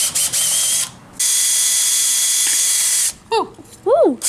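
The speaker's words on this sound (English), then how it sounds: "I think you should stack them all up and like drill through them all." Power drill boring through a stack of phones, a loud sustained whine that halts briefly then resumes for about two seconds before stopping, followed by short excited vocal whoops.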